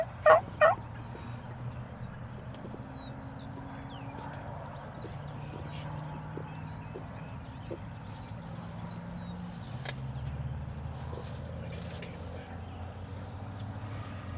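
A wild turkey gobbles twice in quick succession near the start, loud and close, over a steady outdoor field background with low rumbling noise through the rest.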